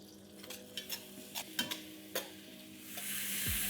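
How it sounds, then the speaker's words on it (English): Red onion paste with bay leaves sizzles in hot oil, with a soft continuous fry under several sharp stirring clicks and scrapes, growing louder toward the end. "Let's fry this till the raw flavor of onion goes away."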